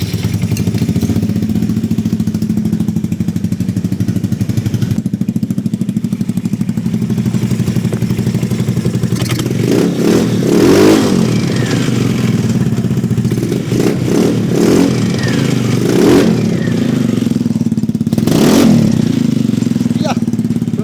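A Polaris RZR fitted with a Honda CBR 1000 motorcycle engine runs loud and close, a rough steady idle rising into several sharp revs, with people talking over it.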